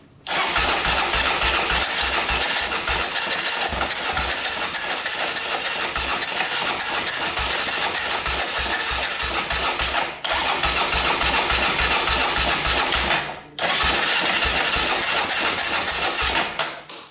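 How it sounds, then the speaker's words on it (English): An old quad engine, run on starting fluid after sitting for years, fires and revs loudly with a rapid chugging rhythm while blowing back out of the carburetor, cutting out briefly twice before catching again. "Sounds like it's blowing out of the carburetor."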